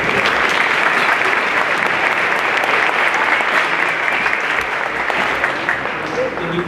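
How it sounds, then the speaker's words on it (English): A school crowd at a middle school 8th grade moving-up ceremony gives teachers a big round of applause, dense steady clapping that fills the whole stretch and fades slightly at the end. "Big round of applause."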